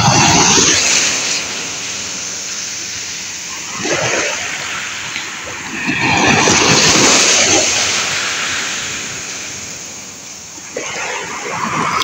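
Sea waves rolling onto the shore at a beach, repeated surges of rushing, splashing surf with wind noise, loud and close, about three or four swells across the stretch.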